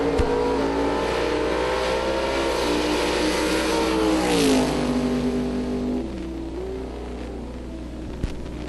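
A Pro Dial drag racing car pulls a big wheel stand at the Yellow Bullet Nationals, its engine howling loud and sustained, pitch climbing and then easing as it pulls away down the strip.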